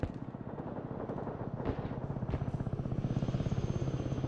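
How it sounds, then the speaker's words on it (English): An Osprey tiltrotor aircraft flies in the military video game Broken Arrow, its rotors producing a loud, rapid, pulsing thump that grows steadily stronger, with no talk. "The Osprey is in the air."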